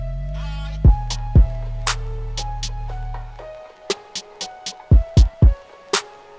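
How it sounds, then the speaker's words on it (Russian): Percussion loop in an FL Studio beat, made for an instrumental of a track: a sustained bass and synth layer fades out after about three seconds, leaving sharp, evenly spaced percussive hits with ringing tonal notes, loud and without any voice. "здесь я добавил еще перкуссионный луп, который звучит вот так"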